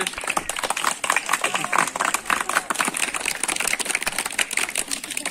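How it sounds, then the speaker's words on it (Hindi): A group claps together at a birthday and Children's Day celebration, with dense, rapid hand claps filling the whole stretch close by and some voices underneath. "ताली बजाओ"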